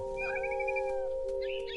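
In the game What Remains of Edith Finch, a cat gives a brief, faint meow over a steady tonal music hum, followed by a second short cry.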